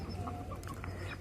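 A rooster, a prize bird, gives a short burst of soft clucks close by, faint and brief against quiet background noise.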